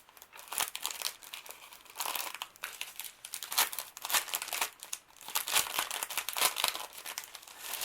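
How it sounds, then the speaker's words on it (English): Thin, transparent vellum tissue paper is handled during an unboxing of craft supplies, producing close, continuous crinkling in uneven bursts with brief pauses and no talking. "There is some of the little vellum paper, or like a tissue paper actually"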